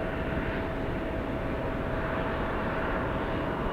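Airliners landing on parallel runways 28 at San Francisco International Airport make a steady, broad engine roar that holds at a constant level throughout, distant but full and continuous, with no voices.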